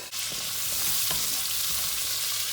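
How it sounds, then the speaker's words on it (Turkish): Shallots caramelizing in oil in a covered pan give off a constant, dense, hissing sizzle, close and fairly loud, with a faint scrape near the start. "Arpacık soğanları içinde bir karamelize edeceğiz"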